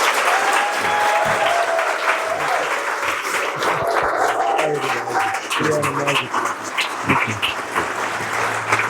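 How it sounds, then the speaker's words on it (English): An audience applauds a speaker at an in-person event, a full round of clapping with a voice talking over it and some brief musical tones threading through. "let's give him another big round of applause"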